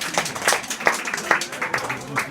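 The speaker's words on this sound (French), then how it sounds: "on applaudit Laetitia" Audience at a campsite hypnosis show applauding for a volunteer named Laetitia, a short burst of quick, scattered clapping close by.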